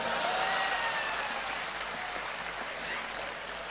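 An audience claps together in a sustained round of applause, steady and fairly loud, slowly easing off.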